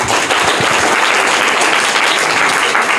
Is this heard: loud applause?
yes